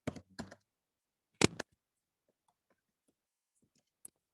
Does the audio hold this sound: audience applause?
no